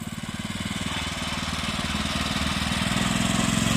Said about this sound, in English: You have no rev limiter on that engine.